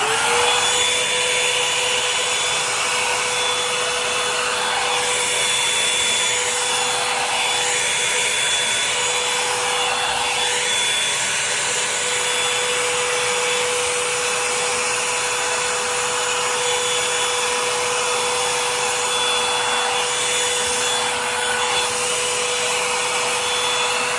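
A Revlon hair dryer brush runs steadily while being passed over hair until it is dry, a continuous loud whirring blow with a faint high whine and slight rubbing changes as the brush moves.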